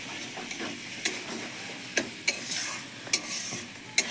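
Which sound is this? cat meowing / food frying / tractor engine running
food frying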